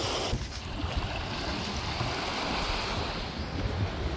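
Stormy wind roars and waves crash at a pass on Tupuai, a continuous loud rush of gusts buffeting the microphone over surging surf with no one speaking.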